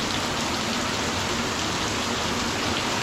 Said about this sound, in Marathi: जोरात पाऊस पडते.